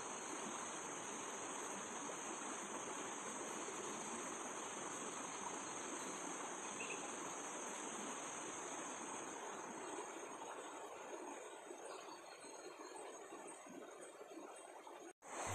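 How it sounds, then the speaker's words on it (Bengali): Water rushes steadily along an outdoor canal in a continuous broad roar, with a high, unbroken insect drone layered on top; no voices. "এই যে আওয়াজ আসছে, খুব জল যাচ্ছে তাই।"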